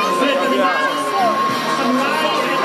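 Crowd cheers and shouts at a Saturday cosplay contest at Firenze Comics 2018, a loud dense roar with whoops and children's voices throughout.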